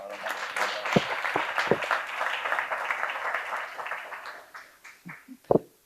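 An audience at a newspaper's 150th anniversary celebration in Genoa applauds the Archbishop, a burst of clapping that swells then fades over a few seconds, ending with a few sharp knocks and thumps.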